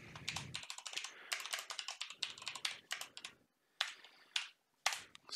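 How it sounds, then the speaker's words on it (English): Rapid close clicking of fingers typing on a computer keyboard, bursts of keystrokes separated by short pauses, fairly quiet and heard alone. "So I need to type that in exactly as it is here"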